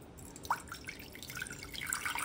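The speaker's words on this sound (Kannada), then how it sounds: "2 ಕಪ್ಪಷ್ಟು ನೀರು ಹಾಕ್ತಾ ಇದ್ದೀನಿ." Water pours into a pressure cooker for a one-pot sweet recipe, a soft close trickle with a few bright drips, steady and fairly quiet with no talking.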